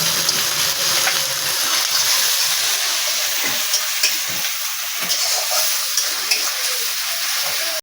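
Onion paste fries in a pan with fish, giving a loud, continuous close sizzle and crackle with occasional stirring, no voices.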